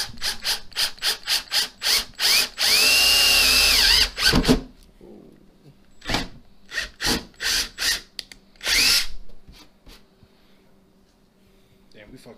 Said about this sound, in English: But we got it now, we start drilling.